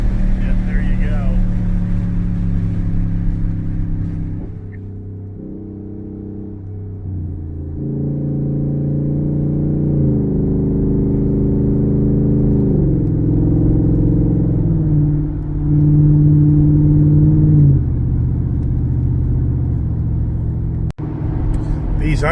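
Race truck engine droning steadily as it drives through a highway underpass, a loud continuous rumble whose pitch shifts and rises in stepped bursts, with a brief dip midway and a sharp click near the end.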